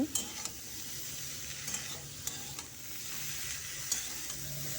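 Poluta vegetable and shrimp stirred in a frying pan, a steady sizzle with scraping strokes of the spatula recurring every second or so, close and alone without talk.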